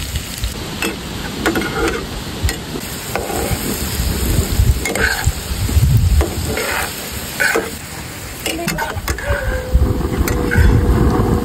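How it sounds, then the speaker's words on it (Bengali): Onions and green chilies sizzle steadily in hot oil, frying until browned, with occasional scraping and stirring clatter and a windy background rush throughout. "তো এবার আমি সুন্দর মতন পেঁয়াজ মরিচ দিয়ে ভেজে নেব"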